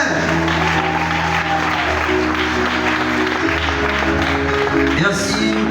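Warm applause from a church congregation welcoming a wedding procession, steady and dense for the whole stretch, with a sustained musical drone underneath and some voices mixed in.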